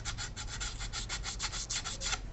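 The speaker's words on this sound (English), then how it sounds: "we're going to sand the control surfaces" Thin model aircraft control surfaces sanded by hand with 180 grit sandpaper, a steady run of quick rhythmic rasping strokes, close and even, with no talking.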